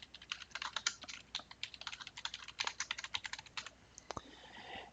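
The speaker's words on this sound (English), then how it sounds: "But we'll go ahead and begin typing our topic title." Quick, light keystrokes tap out on a computer keyboard in uneven bursts, close and fairly quiet, with a brief pause near the end before a final few keys.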